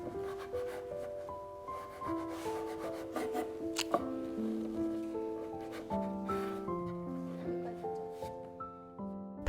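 A knife slices sheets of yugwa dough into thin 0.5 cm strips, then shorter lengths, giving soft repeated cutting taps under gentle background music.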